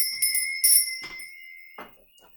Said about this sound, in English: Now I'm going to ring my bell